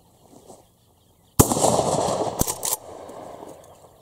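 An Uzkon LA887 lever action shotgun fires once at clays outdoors, a sudden loud blast with a rolling echo tail. A second sharp crack follows about a second later, then a quieter lingering rumble.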